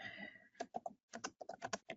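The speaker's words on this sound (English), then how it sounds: "Maybe he's typing in the background." Keys clatter on a computer keyboard heard through an open call microphone, a quick irregular run of close, crisp taps with brief pauses and no talking.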